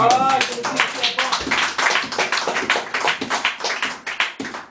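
A church congregation claps rapidly and cheers for Jesus, dense overlapping applause with raised voices, loud and close, gradually thinning out at the end.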